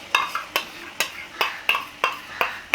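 A spoon scrapes rhythmically around a pan as milk powder is stirred into a vegetarian bottle gourd (lauki) curry. About eight crisp, evenly spaced strokes sound close and clear, with a faint sizzle beneath.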